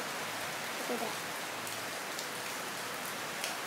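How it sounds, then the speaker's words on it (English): Heavy rain pours steadily, a dense, even hiss of drops on surfaces filling the whole stretch with no break, loud and close throughout. "It's a heavy, heavy, heavy rain."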